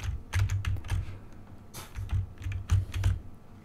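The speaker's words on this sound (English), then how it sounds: "And I'm being even louder with the keyboard." Loud, fast computer keyboard typing with heavy clacking keystrokes in irregular bursts, played while controlling a farming game demo with the arrow keys, close and alone with no voices.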